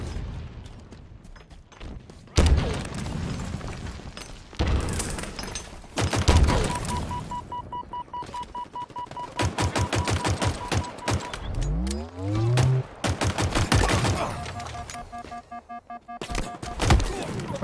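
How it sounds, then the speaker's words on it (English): Several bursts and scattered shots of gunfire from multiple teammates' weapons in Halo Infinite multiplayer, with sharp clustered volleys, rapid pulsing fire, sci-fi weapon tones and a sweeping whine mixed among game effects. "There's three teammates firing at you in that one spot."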